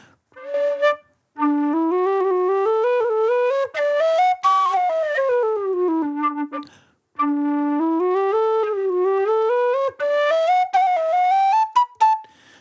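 A PVC or aluminium low whistle plays a sustained, breathy melody in long phrases with sliding notes, close and alone.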